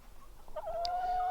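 Backyard chickens give a short, faint cluck close by, rising into a drawn-out call over quiet outdoor background.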